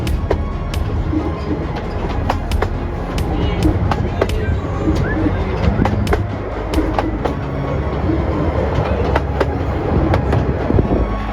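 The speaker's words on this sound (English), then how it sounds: "The driver opens the steam regulator and lets Merlin take the train out" A heritage steam train, the locomotive Merlin, departing on the Rudyard Lake Steam Railway, rumbling along with steady low-frequency noise and scattered metallic clicks and clanks, fairly loud and continuous throughout.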